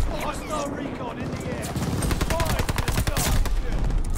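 Owen gun firing in a fast multiplayer shooter, rapid automatic bursts that grow denser and louder toward the end, with a voice talking over the first part.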